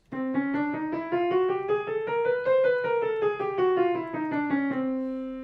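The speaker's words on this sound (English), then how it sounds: "A chromatic scale sounds like this." A piano plays a smooth chromatic run, climbing note by note and then descending, ending on a sustained tone.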